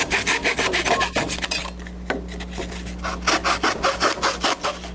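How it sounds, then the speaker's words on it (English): A wooden tree log sawn into sections in a classroom, with close, loud back-and-forth rasping strokes in a steady rhythm, a brief pause near the middle, then more strokes. "what if I take this tree log and cut sections off of the tree log?"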